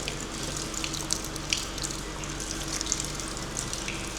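Cold water falling and dripping from the arch of the Capoeirão railway tunnel, a steady close splashing patter with scattered brighter drips throughout, no talking.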